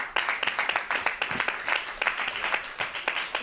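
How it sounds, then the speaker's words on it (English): A conference audience at a panel on food-system collaboration claps steadily for several seconds, many hands making a dense, moderately distant patter with no voices over it. "Round of applause for them, please."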